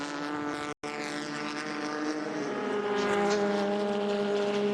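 A Le Mans prototype race car with roughly 1,000 brake horsepower accelerates hard out of a chicane, its engine a loud, continuous rising roar with a brief cut at a gear change.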